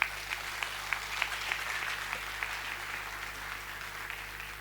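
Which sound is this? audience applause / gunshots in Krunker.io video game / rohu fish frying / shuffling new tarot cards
audience applause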